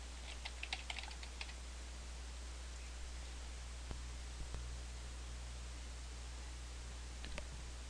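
A computer keyboard is typed on in a few quick clusters of faint keystrokes, separated by long stretches of a steady low hum in a quiet room.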